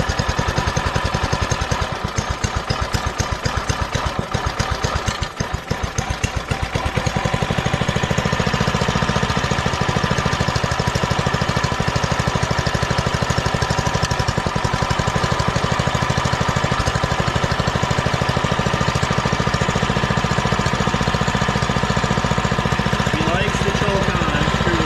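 A Doodle Bug DB30 mini bike's small engine runs steadily and loud throughout, a continuous buzzing drone with a rougher, choppier patch early on before settling into an even idle-like hum.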